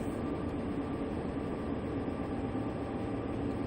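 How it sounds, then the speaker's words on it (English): Train rolling steadily and gaining speed while running on dynamic brakes, heard as a loud, continuous rumble of wheels and rail noise from inside the cab, with no pauses or talk. "Looks like our train is gaining speed."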